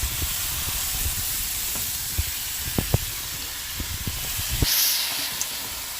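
Liver (kaleji) sizzles in a hot pan, a steady close hiss with a few sharp pops and crackles scattered through it and a brief surge of steam near the end.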